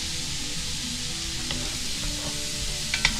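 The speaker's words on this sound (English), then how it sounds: "I'm going to add the garlic, the thyme, and the bay leaves." Garlic, thyme and bay leaves sizzle and fry in a pot for Hoppin' John, a soft, even crackle throughout with a few faint stirring clinks near the end.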